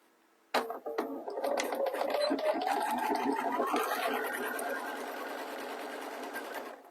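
A sewing machine stitches fabric for a small swim bag, starting abruptly with a quick rattling whir that settles into a steady, rapid mechanical hum, close and alone.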